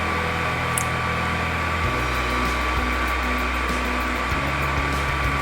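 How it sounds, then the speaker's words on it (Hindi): A blender whirs steadily through a mango ice cream mixture, a continuous close motor hum with a constant tone that shifts pitch slightly a couple of times, with no talking over it. "जैसे ही हम इसे ब्लेंड करेंगे अच्छे से ये मिक्स होना शुरू हो जाएगी"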